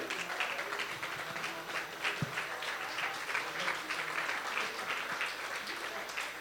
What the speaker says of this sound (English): So big round of applause for this team.